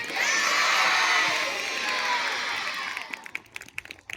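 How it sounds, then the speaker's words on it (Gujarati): A festival crowd at a Tulsi Pujan Mahotsav roars with loud, sustained cheering and shouting that fades, giving way to scattered sharp claps at the end. "આપણે એવી તાળી પડી કે અહીંયા બેઠા છે એનો ઉત્સાહ"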